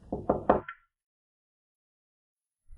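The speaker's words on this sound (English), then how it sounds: "Late that night, Ayub heard a soft knock at the door." A soft knock at a wooden door, three quick close taps and a faint fourth, then silence.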